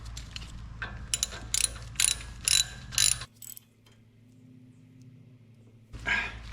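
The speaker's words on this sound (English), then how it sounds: "Now we just need to reinstall the brake line bracket here to the strut" A ratchet clicks in quick bursts as a 12mm bolt is tightened on the brake line bracket of a Lexus GX470 strut, close and crisp, followed by a low steady hum and a last short rattle.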